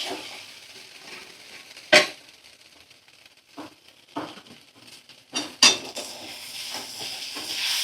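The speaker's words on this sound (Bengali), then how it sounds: "একটু নাড়াচাড়া করতে হবে।" A spoon stirs food in a kadai (wok) over a medium flame, with a soft sizzle underneath and a few sharp metal scrapes and clanks against the pan.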